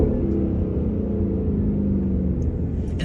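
A Lexus LC500 V8 engine revs with a loud, deep, steady exhaust rumble, heard up close and alone.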